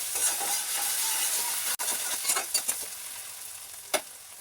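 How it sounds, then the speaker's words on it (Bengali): Onions fry in a hot pan for a fish jhuri dish, giving a steady close sizzle and hiss with a few soft stirring knocks, and no voices. "এখানে মোটামুটি পেঁয়াজটা লাল লাল করে ভাজা হয়ে গেছে"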